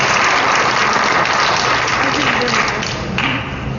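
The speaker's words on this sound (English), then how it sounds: "Give Erica a round of applause for what she's doing here." An audience applauds at a community tribute event in East St Louis honoring Dick Gregory, a dense steady wash of clapping that holds loud throughout and thins slightly near the end, with some faint voices mixed in.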